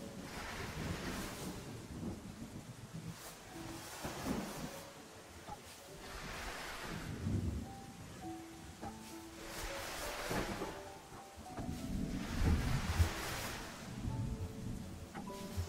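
Rain hisses steadily in the video game Terra Nil while low rumbles of thunder roll in several distant waves, with soft game tones and a quiet voice underneath.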